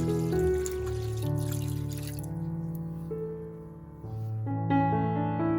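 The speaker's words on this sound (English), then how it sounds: "Then add enough water to cook the chicken." Water is poured into a cooking pot holding chicken pieces, giving a continuous liquid gurgle and trickle with shifting, rising tones as the pot fills.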